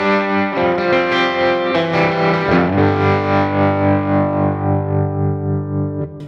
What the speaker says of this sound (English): The third one here that I have set in the scenes is my trem.